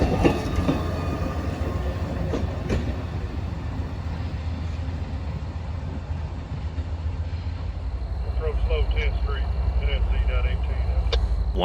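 An Amtrak passenger train rolls over a railroad diamond crossing near Atlanta, a steady rumble with rhythmic clicking of wheels over joints and a squealing metallic tone toward the end.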